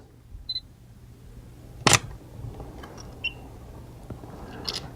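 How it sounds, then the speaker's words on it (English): Camera shutter fires once with a Flashpoint RL600B flash in manual mode at 1/60 s, a single sharp click near the middle, with small faint beeps and clicks around it in a quiet room. "let's just take a shot here"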